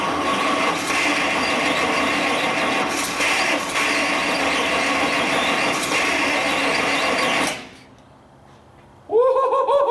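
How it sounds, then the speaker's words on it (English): A 1937 Buick limousine engine, restarted after 25 or more years, runs loud and close with a steady roar that cuts out suddenly, followed by excited voices. "It starts with the throttle!"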